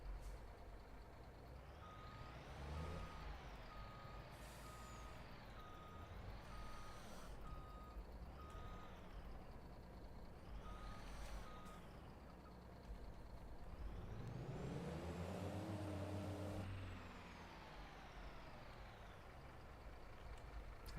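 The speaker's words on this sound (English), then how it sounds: "Thinking I better bring out the big truck for this one." A big truck's reversing alarm beeps in a steady, evenly spaced pattern over a rumbling engine and hissing air brakes in Farming Simulator 22, fairly faint and continuous with no talk.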